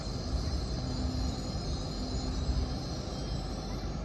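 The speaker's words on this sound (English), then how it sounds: "now arriving in is the Edinburgh to London King's Cross service, formed of 801-209" A Class 801 train, unit 801-209 on the Edinburgh to London King's Cross service, pulls into York station with a steady, faint rumble of wheels and motors and a thin squealing tone, fairly distant and unbroken.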